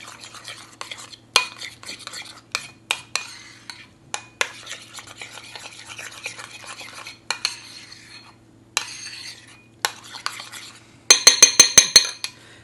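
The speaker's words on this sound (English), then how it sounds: "add several squirts of hot sauce and mix it up with the mayo" Hot sauce is stirred into mayonnaise in a bowl with a utensil, giving a run of close scraping, clicking strokes in irregular bursts that end in a quick series of sharp taps against the bowl's rim.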